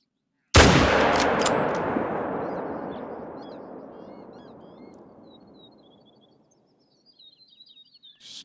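A single loud, close rifle shot at an animal in the hunting game The Hunter: Call of the Wild, its sharp crack followed by a long rolling echo that fades over several seconds, then faint birdsong chirps.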